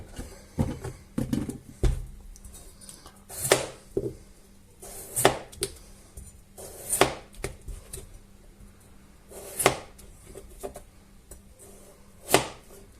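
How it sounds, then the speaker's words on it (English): A knife slices through sausages on a cutting board, producing sharp, irregular thuds and taps spaced a second or two apart, close and fairly loud, with no talking. "So I'm going to slice them in about 1 centimetre slices"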